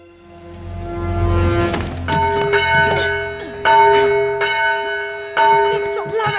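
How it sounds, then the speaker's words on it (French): A church bell rings on Christmas Eve in an animated story. After a low rumble, it strikes loudly several times at uneven intervals, and each stroke leaves a long, shimmering tone hanging in the air. "Fais sonner cette cloche"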